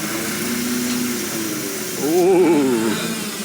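A heavy piece of shop equipment, an 80, runs steadily as it lifts a load, its engine droning evenly before rising into a louder, wavering strain midway through, with no talk over it.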